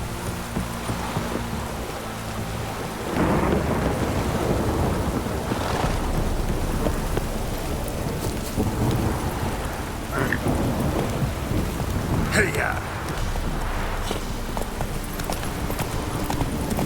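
Steady rain and rolling thunder from a stormy scene in The Witcher 3: Wild Hunt, a constant hiss of downpour with deep rumbles building through the middle and later, and a voice muttering briefly over the storm.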